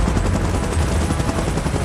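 Helicopter rotor chopping steadily and loudly from a King Kong and Godzilla monster film, a dense, continuous thudding roar filling the whole moment with no voices.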